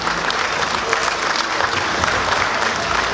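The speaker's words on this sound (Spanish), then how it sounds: "El aplauso para los novios," Wedding guests applaud the newlyweds at a celebration in Ameyaltepec, a dense, steady wash of clapping from a crowd that holds at full strength throughout.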